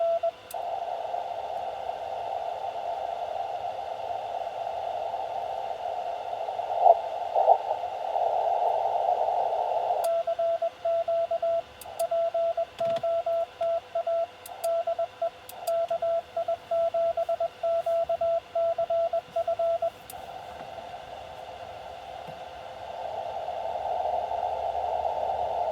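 Amateur radio Morse code during a Parks on the Air activation: a steady tone keys out dots and dashes for long stretches, faint and thin against a hissing radio noise background, with short pauses between bursts.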